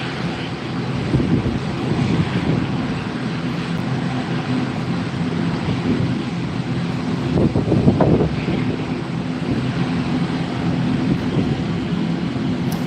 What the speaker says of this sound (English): Got another ATR just landing and the EasyJet taxiing to the runway